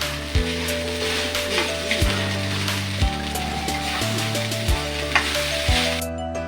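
Leftover rice stir-fried in a pan, with a loud continuous sizzle close up and repeated scraping and tossing strokes at an irregular rhythm.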